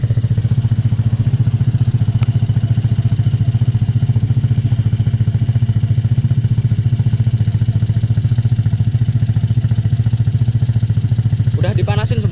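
A bored-up 200cc Vespa scooter engine idles and blips steadily up close, a deep, bassy and loud mechanical drone with no pauses, and a brief scrape or chatter right at the end.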